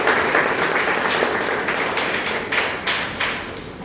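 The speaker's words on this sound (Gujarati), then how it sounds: "આપણે સૌ તેમનું તાળીઓથી સ્વાગત કરીએ" An audience applauding to welcome the Dabhi family at an institution gathering, dense sustained clapping from many hands that swells and fades in waves, close and loud.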